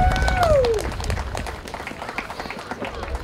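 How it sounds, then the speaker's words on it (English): Audience clapping and cheering for a girls' youth sports team on a youth league opening day outdoors, a steady spread of applause with a whistle-like tone at the start and a voice over it. "Let's give these girls a round of applause again real quick."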